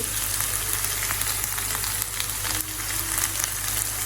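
Chili paste sizzles steadily in a hot pan while cooking beef rendang, a constant, close frying hiss with no one speaking.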